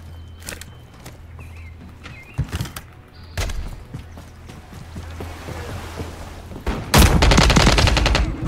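Gunfire rattles through a Call of Duty match, with single shots and short bursts spread out, then a dense loud volley near the end over a low steady game background hum.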